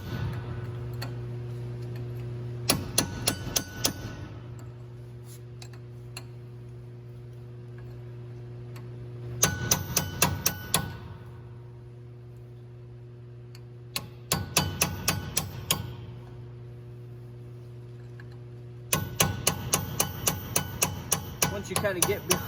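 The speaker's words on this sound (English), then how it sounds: "we're gonna use a flathead chisel and a hammer and just kind of work our way around" Hammer striking a flathead chisel to work a grease cap off a wheel hub during wheel bearing service, in four separate bursts of rapid metallic taps between quiet pauses, with a steady low hum underneath.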